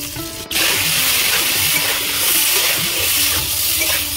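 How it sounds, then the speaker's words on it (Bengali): Cauliflower florets frying in hot oil left over from frying fish, a steady loud sizzling hiss that starts abruptly and continues without a break, with no talking. "মাছ ভাজার ওই তেলের মধ্যে আমি ফুলকপিগুলো ভেজে নেব।"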